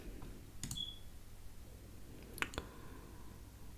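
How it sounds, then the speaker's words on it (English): Two sharp clicks from a computer mouse, spaced close together like a double-click, faint against a low steady hum with no talk. "Just double click that."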